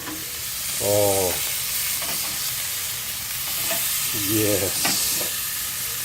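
Smoked pork chops sizzling steadily in a hot pan as they are flipped, a loud continuous hiss with two short spoken exclamations over it.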